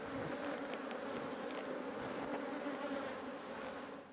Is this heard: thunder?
no